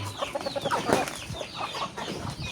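Joloano breed chickens clucking and calling at feeding time, several birds close by with overlapping short clucks and a brief louder squawk, no talking.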